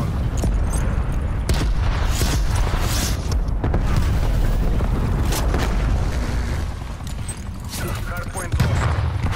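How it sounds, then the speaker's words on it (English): Cruise missile strikes in the Call of Duty Black Ops Cold War video game, with loud, continuous booming blasts and rumbling explosions rolling over one another, dense and close for the whole stretch. "Cruise missile inbound"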